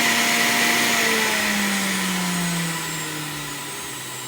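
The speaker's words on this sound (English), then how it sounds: "the fruitless sound of running the machine" A Bella High Power juicer runs with no fruit inside, giving a steady, loud motor whine with a slowly falling hum that eases slightly toward the end, heard alone without talk.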